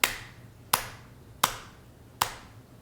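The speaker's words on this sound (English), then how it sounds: "he would clap his hands. So he claps at a slow rhythm" Four sharp hand claps at a slow, even rhythm, spaced about three-quarters of a second apart, close and loud with short decays.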